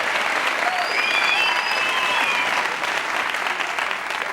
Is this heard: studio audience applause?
yes